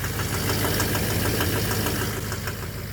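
A Duramax LMM diesel engine with a faulty fuel injector idles with a loud, nasty knock. The rapid, regular clatter runs close and continuous over the engine's steady drone, with no talking.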